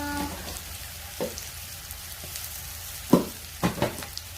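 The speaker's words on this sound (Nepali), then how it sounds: "त्यसलाई मजाले चलाएर अदुवा लसुनको काँचो गन्ध जाने गरी म एकछिन फ्राई गर्छु।" Ginger garlic paste frying in a pan, a soft steady sizzle broken by a few distinct stirring scrapes and taps of a spoon, with no voices.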